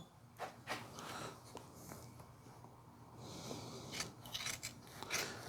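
Sharp shears cut through thick tunnel repair window material for a 1956 oval window rag-top Volkswagen, making a run of close, crisp snips and rasping crunches, several clustered near the start and more toward the end.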